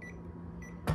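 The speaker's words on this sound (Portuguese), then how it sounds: "olha o bip dele como é baixo, certo?" Two faint, short electronic beeps from an AFR MT-5300 digital multimeter's voltage detector sound quietly against a soft background hum, then a sudden dull knock lands near the end.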